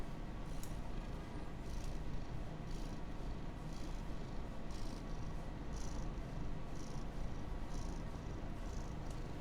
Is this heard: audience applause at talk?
no